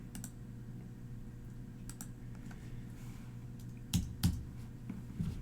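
Faint, sparse keystrokes tap on a computer keyboard against low background hum, with a couple of louder clicks near the end.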